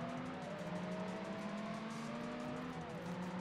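Race cars in the video game Test Drive Unlimited, including a Mercedes CLK GTM AMG and a Noble, roar with sustained engine drone and shifting revs, a steady, dense motor sound with slowly rising and falling pitch.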